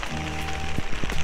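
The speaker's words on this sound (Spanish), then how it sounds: "está lloviendo, está pues como granizando" Rain and hail fall on a camping tent during a snowstorm high on Iztaccíhuatl, a dense steady patter of drops drumming close on the fabric throughout, with a few firmer taps standing out.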